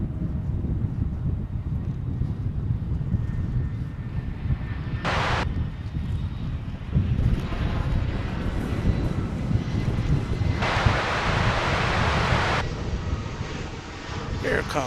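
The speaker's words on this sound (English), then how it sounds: "Here comes a flight from Tulsa, Oklahoma. I'm going to say that's an Airbus A319." An Airbus A319 arriving from Tulsa at Dallas/Fort Worth Airport, a steady broad jet roar with wind noise on the microphone, rising slightly toward the end as people talk over it.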